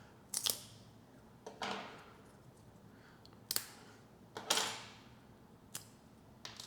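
Magnetic encoder circuit boards snap apart in a series of sharp, close cracks and clicks, about six separate breaks spaced irregularly over a quiet background.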